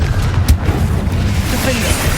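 Fiery Confringo blast spell in Hogwarts Legacy, booming loud and close with a sharp burst near the start, then a heavy rumbling low roar sustained through dense battle noise.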